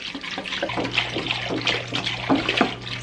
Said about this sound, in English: You just want to fill your pot until everything's covered